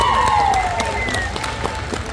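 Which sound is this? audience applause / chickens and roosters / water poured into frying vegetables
audience applause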